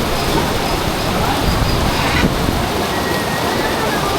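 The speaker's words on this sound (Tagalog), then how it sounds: "lakas ng ulan" Steady, dense rain roars continuously across the whole stretch, a broad hiss with no breaks, close and loud.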